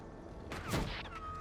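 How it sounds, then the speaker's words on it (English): Gunfire in Red Dead Redemption 2: a short, sharp cluster of shots cracks out loudly over a steady background bed, then rings off within about half a second. "They're shooting at us!"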